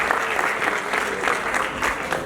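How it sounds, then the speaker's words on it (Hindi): An audience at an album song launch event claps steadily for wrestlers on stage. The dense, even applause holds for the whole stretch at a loud level, with no voices breaking through. "एक बार ताली बजा दो।"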